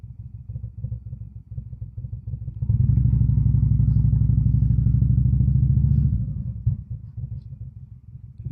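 A motorcycle engine rumbles at low speed, swelling to a louder, throaty roar for a few seconds as it accelerates, then dropping back to a lower growl.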